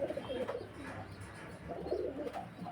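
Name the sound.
pigeon cooing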